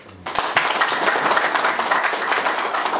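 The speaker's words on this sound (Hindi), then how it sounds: "तूने जोर से ताली बजा दे" An audience at an Assam Regiment pension group celebration bursts into loud, dense applause that continues steadily with many hands clapping at once.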